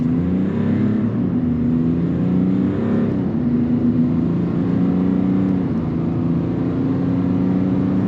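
A 2022 GMC Sierra 1500 AT4 pickup accelerates hard from a standstill toward 60 mph, its loud, steady engine drone rising through the gears with brief dips at shifts, heard continuously from inside the cab with no talking.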